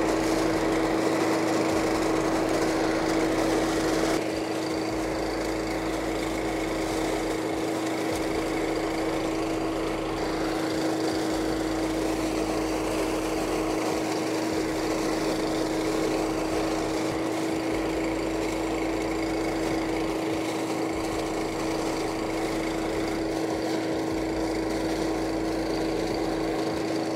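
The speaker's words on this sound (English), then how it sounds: "So now what I'm gonna do is suck those leaves out." A leaf collection machine runs with a steady, loud motor drone and a constant high whine, sucking up leaves continuously throughout with no talking.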